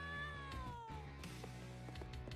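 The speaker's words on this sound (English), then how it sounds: "Why is a cat here?" A cat meows in the video game Trials of Mana, one drawn-out falling meow followed by a few short, softer cat calls over a steady game music bed.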